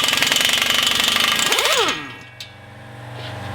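An old Craftsman model 875 impact wrench hammering loudly in a rapid rattling burst on a Honda Pilot CV axle job, then winding down and going quiet after about two seconds.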